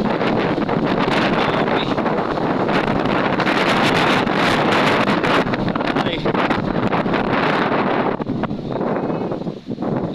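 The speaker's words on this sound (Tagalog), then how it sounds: "lakas pa ng hangin, oh" Loud, sustained wind batters the microphone outdoors at a picnic grove in Tagaytay, a steady roaring rumble with brief dips near the end and faint voices underneath.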